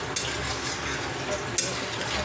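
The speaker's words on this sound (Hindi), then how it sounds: "अब इसको हम अच्छे तरीके से भून देंगे" Gram flour (besan) fries in a pan as it is stirred, giving a close, steady sizzle with two sharp scraping strokes of the spoon against the metal.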